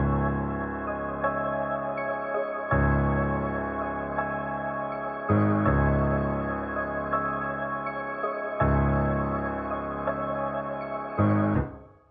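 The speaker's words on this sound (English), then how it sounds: "Next I went to keyscape right here, and I got the cinematic piano" A cinematic piano melody from Keyscape plays in an FL Studio beat, sustained chords repeating in a steady loop of roughly three-second phrases over deep low-end notes, clear and upfront with no voices.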